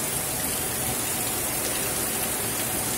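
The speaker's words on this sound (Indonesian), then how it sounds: "Hujan lebat ya." Heavy rain pours steadily outside a shop in Karang Gede, a dense, even hiss that fills the whole clip without a break and with no voices over it.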